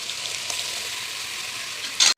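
Ground masala sizzles in a pan as it is stirred, a soft, even frying hiss close by, ending in a brief louder scrape or clatter.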